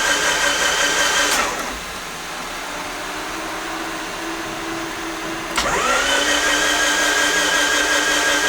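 A turbocharged Honda D16 engine in a Del Sol cranks on its starter with a steady whirring drone, stopping briefly for a few seconds before resuming at the same pitch.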